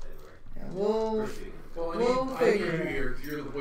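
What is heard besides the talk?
No everyday noises stand out.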